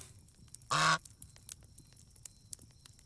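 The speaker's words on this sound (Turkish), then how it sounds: "Arkadan da şey sesleri geliyor ya ördek sesleri." Ducks quack once in the medieval village of Medieval Dynasty, a single loud honking call lasting a fraction of a second against faint background ambience, with no talk over it.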